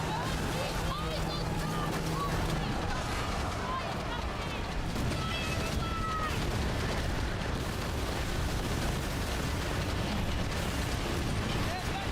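Booming bomb blasts in a Skull and Bones naval battle, with heavy low rumbles and bursts rolling continuously under a loud chaotic mix of ship and sea noise, with a voice talking over it.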